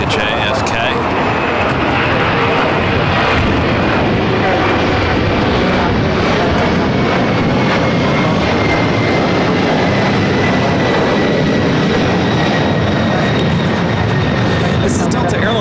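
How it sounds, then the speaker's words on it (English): A Delta Boeing 767-300ER jet takes off from LAX for JFK with a loud, sustained engine roar and a steady high whine throughout, while voices talk over it. "This is Delta Airlines 939 taking off to JFK on the 767-300ER."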